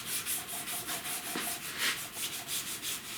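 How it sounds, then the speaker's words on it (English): Light hand sanding over a truck cab corner repair, a soft close rhythmic scrubbing of quick back-and-forth strokes, alone and fairly quiet. "Rub a little bit of hand sand over it, just to kind of rub this corner."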